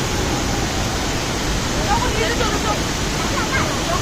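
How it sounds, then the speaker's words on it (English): Waterfall at Ban Jhakri Falls thundering with force, a steady, loud, broadband rush that fills the whole clip without pause, with faint crowd babble mixed into the roar. "Look at the force, the vibrancy of the waterfall."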